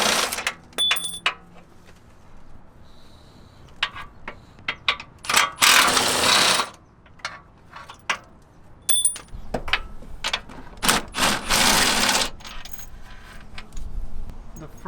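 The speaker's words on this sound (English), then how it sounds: "Now we're gonna completely take the bolts off" A hand ratchet works loose the subframe bolts on a BMW F10 528i with an N52 engine, giving bursts of metallic clicking and rattling with clanks of tools and bolts in between, close by and uneven, with no talk.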